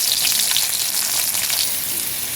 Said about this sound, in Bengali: আমার মাছ ভাজাটা সুন্দর হয়ে গেছে।